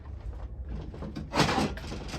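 A workshop drawer is pulled open while someone hunts for a crescent wrench, a rumbling slide with rattling metal tools, louder and sharper near the middle, then settling.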